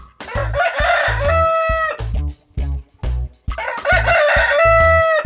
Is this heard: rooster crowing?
yes